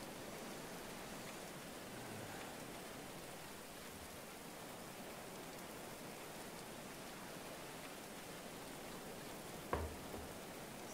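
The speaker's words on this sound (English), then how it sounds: "It's the middle of the day, but you wouldn't know it with all this rain." Steady, soft rainfall fills a medieval settlement in the game Going Medieval, an even hiss of falling drops with one brief knock near the end, faint and without voices.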